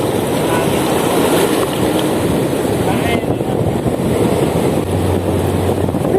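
Loud, constant wind buffets the microphone over rushing water and waves at sea, with no pause throughout.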